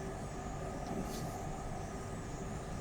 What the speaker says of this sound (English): Oh, look at the train coming the other way